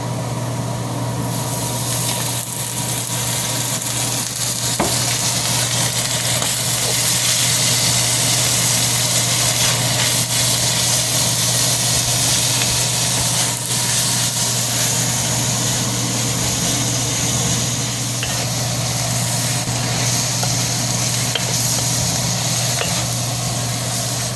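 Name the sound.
lard sizzling while frying in a wok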